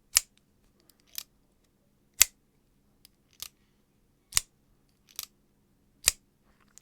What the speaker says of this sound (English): It sounds really good for a crossbar lock.